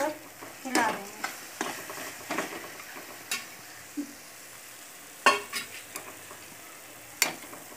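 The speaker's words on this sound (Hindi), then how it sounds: "अब हम इसमें इलायची पाउडर, बादाम कसे हुए और काजू डालकर हिला देंगे।" Cardamom powder, grated almonds and cashews being stirred into a semolina coconut laddoo mixture in a pan, with a series of irregular close scraping and clinking strokes over a faint background sizzle.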